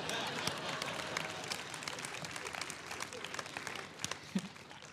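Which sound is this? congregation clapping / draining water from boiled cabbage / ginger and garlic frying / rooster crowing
congregation clapping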